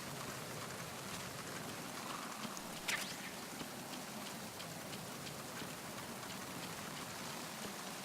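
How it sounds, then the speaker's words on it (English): Steady rain hiss from the Metal Gear Solid 2: Sons of Liberty video game, a continuous broadband wash with scattered drops and one brief brighter accent near the middle, no talking. "I think that's the rain particle effects you're thinking about."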